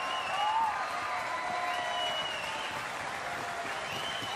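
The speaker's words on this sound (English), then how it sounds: "Storm Roo applauds the home fans" Home fans at an A-League football match between Central Coast Mariners and Wellington Phoenix give sustained stadium applause, a dense, even wash of clapping and crowd noise with faint whistles throughout.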